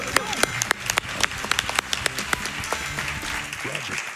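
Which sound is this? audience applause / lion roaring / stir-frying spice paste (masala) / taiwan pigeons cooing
audience applause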